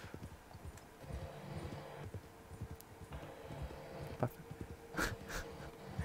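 Horse hooves in Red Dead Online: a steady clip-clop of a trotting horse with occasional snorts and tack jingles, moderately near and quiet, no talking.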